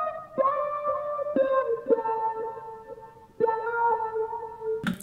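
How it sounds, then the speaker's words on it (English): Wah-effected guitar from a vintage R&B style sample, playing sustained filtered notes in several phrases with sweeping tone, clear and alone with no talking. "the last guitar in the background group is just another wah guitar."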